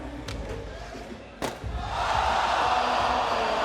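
A crowd at a men's street-skateboarding final in London roars, building from scattered shouts and a thud into a loud, sustained cheer that fills the last seconds.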